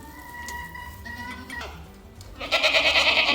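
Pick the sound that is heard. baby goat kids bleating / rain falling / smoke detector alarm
baby goat kids bleating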